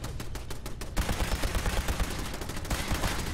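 Rapid turret gunfire from Fallout 4 rattles continuously, a fast dense stream of shots that shifts into a heavier, more thudding barrage after the first second, loud and with no talking.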